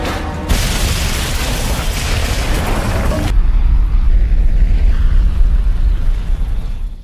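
A building blown up in the action film Triple Threat: a sudden, loud blast erupts into a dense roaring rumble, then settles into a lower, sustained boom and debris roar that lingers for several seconds. No speech.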